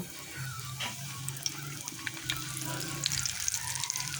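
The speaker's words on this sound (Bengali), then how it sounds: "এখন আমি এই গরম তেলে দিয়ে দিব" Chicken wings crackle and sizzle in hot oil in a kadai, a steady busy frying hiss with scattered sharper pops throughout, fairly close and moderately loud.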